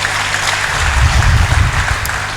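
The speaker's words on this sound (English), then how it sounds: "Can we give him an applause as he does that?" Audience at a Nigerian policy forum on state policing applauding a distinguished lawyer as he stands, a steady burst of many hands clapping, loud and close, with no talking.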